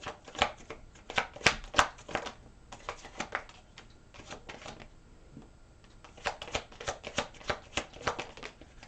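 Tarot cards shuffled by hand in close, dry riffling bursts that come in quick clusters, pause briefly, then pick up again, with no talking over them.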